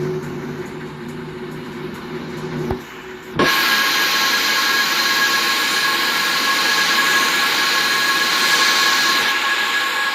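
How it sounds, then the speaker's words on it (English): The engine of a Lufthansa Airbus A319 spools up in the Aerofly flight simulator: a low steady hum cuts off, then a loud broadband jet roar with a high steady whine starts abruptly and holds. "Gotta wait for that beautiful engine to start up."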